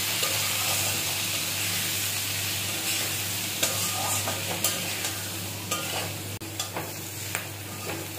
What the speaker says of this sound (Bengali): কুঁদরিটা হালকা ভাজা হয়ে গেছে